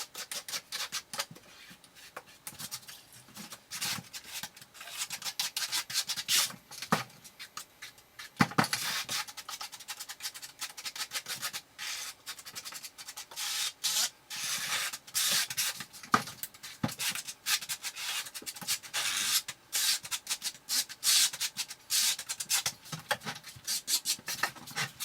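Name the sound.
trowel spreading unmodified thinset cement on Schluter Ditra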